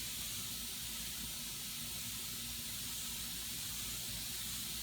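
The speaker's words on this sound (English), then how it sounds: "Now I lightly mist them with a spray from the hose." Garden hose spraying a fine mist over freshly sown microgreen seeds on soil, a steady, even hiss of water spray that runs unbroken throughout at a constant level.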